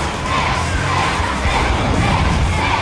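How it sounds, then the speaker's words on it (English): Robot Wars arena crowd roaring and cheering as the robot Micromute is knocked out, a dense, loud, continuous wall of noise from many voices. "The crowd love it, the team doesn't."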